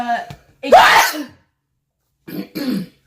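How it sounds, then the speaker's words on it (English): A single sharp sneeze, close and loud, followed by a pause and a couple of short breathy throat sounds. "Perfect placement of a sneeze."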